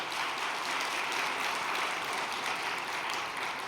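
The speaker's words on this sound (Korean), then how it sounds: "박수 한번 쳐드립시다" Audience at a Korean training session applauds with continuous, even clapping from many hands, steady and moderately loud throughout the short stretch with no talking over it.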